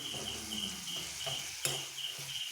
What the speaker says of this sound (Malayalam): എന്നിട്ട് വഴറ്റുക